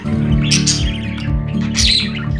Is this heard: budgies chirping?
yes